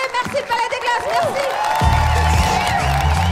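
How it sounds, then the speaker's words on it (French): Audience cheering and applauding as a comedy show ends at the Palais des Glaces theatre, with a dense steady wash of clapping and whoops swelling louder partway through, while a voice talks over it. "Acclamation, d'accord, le public est très content."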